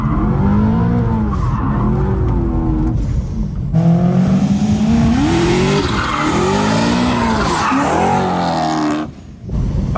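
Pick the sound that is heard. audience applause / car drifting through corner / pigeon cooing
car drifting through corner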